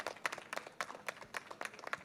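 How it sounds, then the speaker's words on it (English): Faint, scattered hand claps in an irregular rhythm, like a small, quiet audience at a web series trailer launch event applauding from a distance. "Can I have a big round of applause for"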